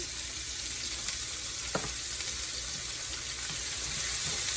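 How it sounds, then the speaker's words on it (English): Carrots and jalapenos stir-frying in a pan give a steady, close sizzle with a few soft clicks of stirring, and no voices over it. "So I'm going to stir fry these for a minute."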